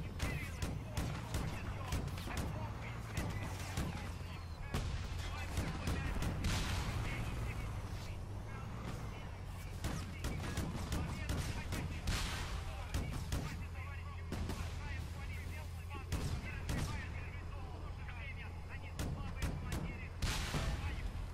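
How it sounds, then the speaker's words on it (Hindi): Heavy tank cannon blasts and rattling gunfire erupt in the war game Frontlines: Fuel of War, a chaotic run of booms and rapid shots with a rumbling engine drone underneath and someone talking over the battle. "अब देखो मैं टैंक लेके आया हूँ अच्छा खासा, अब देखो धमाका"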